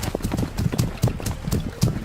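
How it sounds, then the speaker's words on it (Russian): Foley galloping horse hooves for film: a rapid, continuous clip-clop of hard hoof-like knocks in a rolling three-beat rhythm, close and steady throughout, with no talking. "И скачет лошадь."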